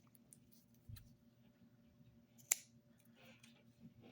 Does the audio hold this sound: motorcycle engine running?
no